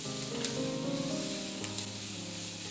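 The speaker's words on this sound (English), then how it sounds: "I'll wait for the onions to wilt a little bit" Yellow onions cook in a pan for a simple chicken curry, a soft, steady close sizzle with a few faint stirring ticks. Sustained tonal hums sit under the frying throughout.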